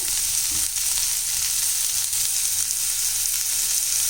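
Onion, curry leaves and green chilli sautéing in a pan give off a loud, continuous frying sizzle, dense and close throughout with faint stirring underneath.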